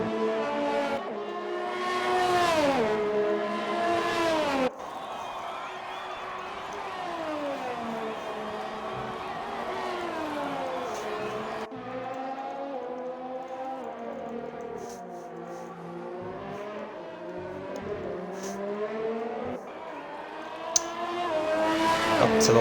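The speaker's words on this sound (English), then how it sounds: "Up to the line now for Toneless in the Alfa Romeo." An Alfa Romeo Formula 1 car in a racing video game screams through a lap of the British Grand Prix circuit, its engine pitch rising and falling with gear changes under steady commentary.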